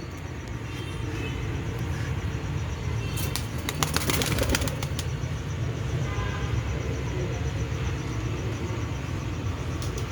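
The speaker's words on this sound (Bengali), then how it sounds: "ये आपके कबूतर पाकिस्तान से बांग्लादेश आ रहे हैं और माशाल्लाह बहुत अच्छे कबूतर हैं।" Royal Teddy pigeons imported from Pakistan make faint coos, then a brief flurry of flapping wings cuts in, all over a steady background hum.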